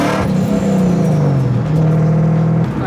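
A loud car engine with a throaty off-road exhaust revs up close by, its pitch rising and falling through one short pull.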